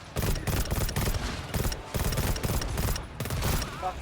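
Rapid bursts of automatic gunfire in the video game GTFO, loud and nearly continuous over about four seconds, with short pauses between volleys and no talk over it.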